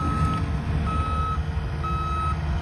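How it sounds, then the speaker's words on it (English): A snow-clearing truck reverses on a frigid winter street in Edmonton, its backup alarm sounding three evenly spaced steady beeps over a constant low diesel engine rumble at moderate distance. "It's a truck. Snow clean truck."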